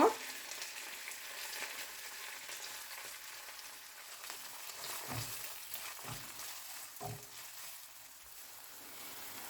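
Chopped onions frying in ghee with garam masala make a faint, even sizzle, broken by a few soft low knocks from a pan or spoon.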